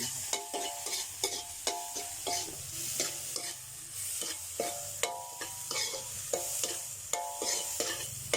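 June beetles frying in hot oil with salt, stirred with a utensil that scrapes and taps the pan in a steady rhythm over a continuous close sizzle.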